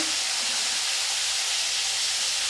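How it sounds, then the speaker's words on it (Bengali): Koi fish dropped into hot oil in a pan, giving a loud, steady hiss of sizzling that holds evenly throughout without a break. "তেলটি গরম হয়ে গেছে এখন এর মধ্যে আমি মাছটিকে ঢেলে দেব"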